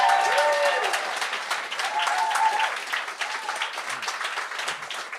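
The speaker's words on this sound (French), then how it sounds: "Est-ce qu'on peut l'applaudir, s'il vous plaît," A studio audience at a televised talent show breaks into steady applause, dense clapping near and loud at first and gradually thinning, with a voice speaking briefly over it.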